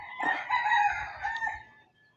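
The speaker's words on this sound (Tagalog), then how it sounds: "Pakaingay ng mga manok dito guys." Chickens and a rooster at a farm yard crow and cluck in overlapping calls, close and fairly loud for about two seconds, with no one speaking.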